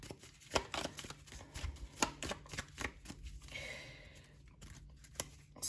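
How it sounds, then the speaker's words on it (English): A deck of tarot cards is shuffled by hand, a run of quick papery riffles and slaps, close and fairly quiet, with no talking. "we'll give a couple more shuffles"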